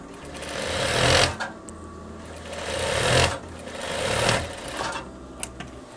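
A sewing machine runs a straight stitch on veterinary coveralls in bursts, its rapid mechanical chatter swelling and easing three or four times, close and fairly loud.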